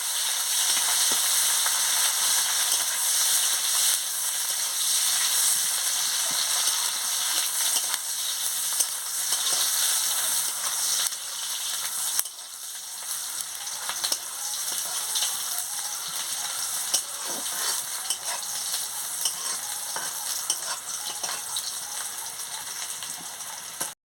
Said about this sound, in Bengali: পেঁয়াজ কুচি দিয়ে আমি ভালো করে ভেজে নিচ্ছি।